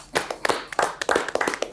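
Brief, uneven clapping from a few people, sharp irregular hand claps close by over roughly two seconds with no talking.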